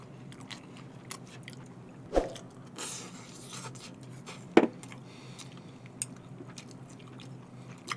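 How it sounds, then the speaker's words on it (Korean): Someone eats homemade tonkatsu, pork cutlet, alongside kimchi stew, with soft close chewing and a few sharper bites and crunches scattered through an otherwise quiet stretch. "원래 짭짭대고 먹어"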